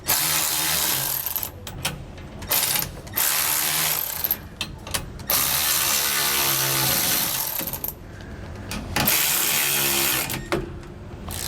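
A ratchet or power tool tightening U-bolts on a Roadmaster Reflex steering stabilizer beneath a 2017 Newmar motorhome, loud close bursts of whirring and clicking broken by short pauses.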